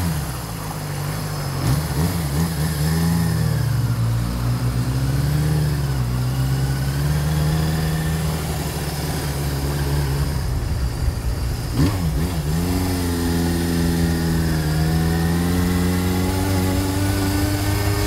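The engine of a restored 1980 Suzuki GS550L motorcycle revs up and down repeatedly, its loud, smooth, buzzy drone swelling and dipping with each blip of the throttle, with no talking.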